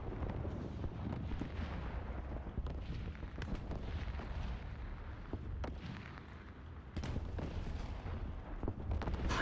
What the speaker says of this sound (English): Another artillery